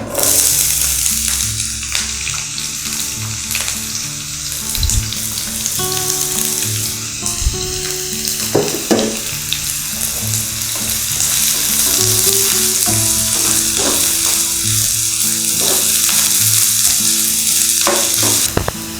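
Onions fry in hot oil with cinnamon and cardamom for a mutton gravy, giving a loud, close, continuous sizzle. Repeated scrapes and clatters of stirring run through it, and no one speaks.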